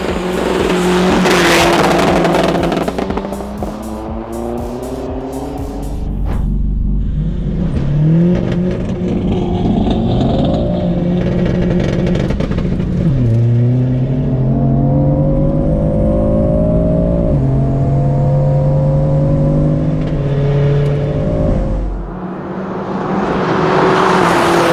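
A 550 HP BMW M4 and a 400 HP Audi A3 1.9 TDI PD with nitro drag race in a video game, with loud engine roars climbing in pitch through repeated gear shifts and a final surge of revving.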